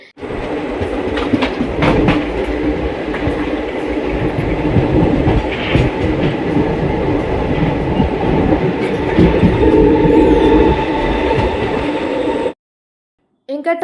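A passenger train rolls steadily, heard from inside the carriage: a continuous loud rumble with rhythmic clickety-clack of wheels over rail joints. It cuts off abruptly near the end.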